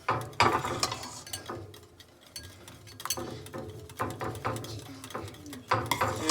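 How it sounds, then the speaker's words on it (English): Whisk scraping rapidly around a bowl as hot lemon meringue pie filling is beaten into eggs, a fast ratcheting clatter of metal against the bowl in quick bursts, fairly close and moderately quiet, with no talking. "we're gonna stir as fast as possible, or whisk as fast as possible."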